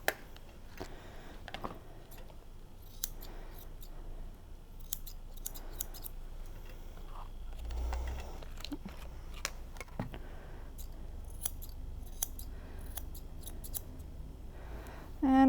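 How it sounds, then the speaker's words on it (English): Scissor tips snipping fur on a dog's feet and around the paw pads, a steady run of quick, close, crisp clicks continuing throughout with no talk. "use the tips of our scissors and just scissor those off"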